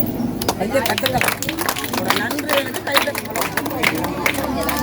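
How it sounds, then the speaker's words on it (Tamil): An audience at a community learning-support event in Vavuniya claps in scattered, uneven bursts. A murmur of voices and chatter surrounds the clapping at moderate loudness. "எல்லாரும் கைத்தட்டுவோம்."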